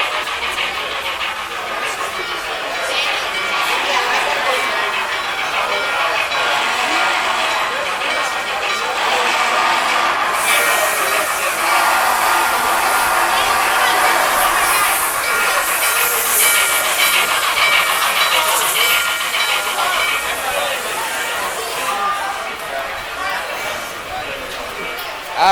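A Strasburg Railroad steam train departs with steady hissing steam and rolling rail noise, the hiss growing brighter and louder around the middle and holding to the end, while people talk over it.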